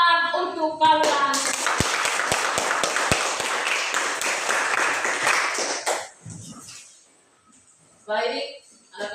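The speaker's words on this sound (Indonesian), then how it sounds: "tepuk tangan untuk kalian." A classroom of children claps together for several seconds. The applause is loud and dense, with a few sharp individual claps standing out. It begins after a teacher's speech and fades into quiet, then more talking follows.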